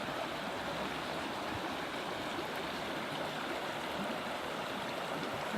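A forest stream in Inyo National Forest flows over stones and pebbles, a steady, soft babbling rush heard close and unbroken, with no voices.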